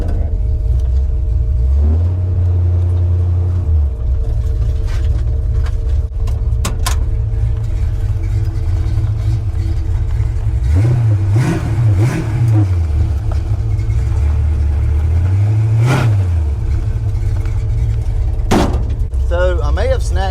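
A cheap scrapyard notchback car, just built for racing, drives along with a steady loud engine drone and rumble, with several rising revs in the middle and near the end, all heard from inside.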